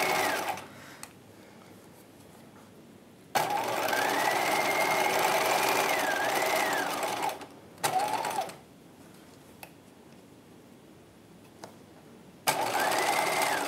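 A sewing machine stitches a bodice seam for a 1950s halter dress in several bursts, a close, loud whirring run followed by short pauses and shorter stop-start runs, including a backstitch, with no talking.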